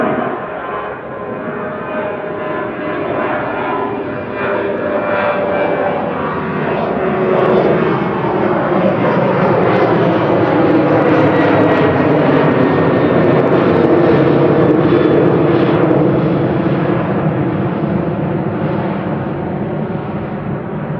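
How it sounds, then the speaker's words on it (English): Ryanair airliner bound for Cologne at Manchester Airport, a loud jet roar that swells and shifts in pitch as it passes close by, rising toward the middle and staying strong to the end. "This is Ryanair to Cologne, ELDLI operating flight"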